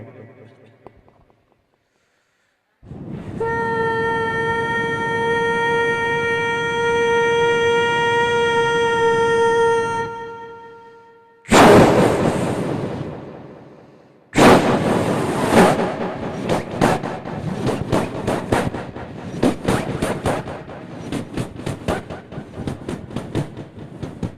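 A performer on a stage at a cultural programme imitates a train pulling out of Nampally station with his voice, giving a long sustained whistle followed by loud chugging, rattling bursts as the imagined train moves off.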